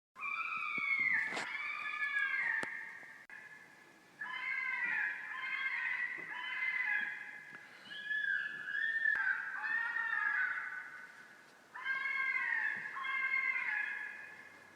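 A fisher cat screams in a series of harsh, drawn-out wavering wails, each lasting a second or two with short gaps, moderately distant and alone in quiet woods.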